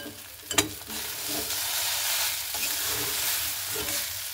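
Chow mein noodles tossed with masala and chopped coriander, stirred and frying in a pan, with a steady loud sizzle broken by scraping strokes of the spatula.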